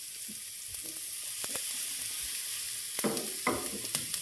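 Chopped onion fries in a modest amount of oil in a pan for a white sauce penne pasta, giving a steady close sizzle with a few louder crackles and stirring scrapes near the end.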